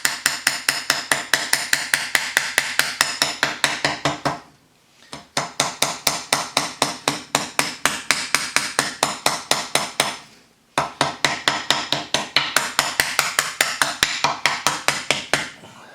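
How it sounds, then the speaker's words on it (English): A hammer taps out a custom gasket, striking in a fast, even series of light blows at close range. The tapping stops briefly twice before carrying on, and nobody speaks. "I'm not hitting hard, I'm just tapping. Tappy tap tap."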